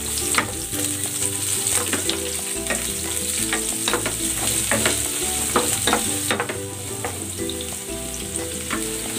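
Onion sautés in a pan for a sauce, a loud, close sizzle with constant stirring, the spoon clattering and scraping in quick, uneven strokes.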